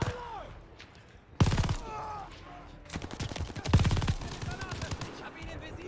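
Machine-gun fire rattles in Call of Duty Vanguard as two dense bursts of rapid shots, close and loud, over game music and scattered voices.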